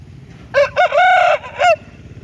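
An Aseel rooster crows once, close and loud: a drawn-out, broken cock-a-doodle-doo lasting about a second, with quiet background noise before and after.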